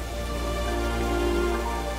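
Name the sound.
Rain Vortex indoor waterfall, Jewel Changi Airport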